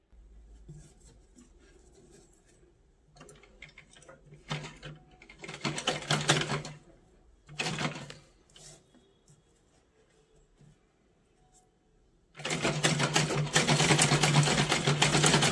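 A sewing machine stitches a strip onto a small dress for a Laddu Gopal idol, running in several short bursts and then one longer steady whir near the end, with quiet handling and rustling of cloth in between.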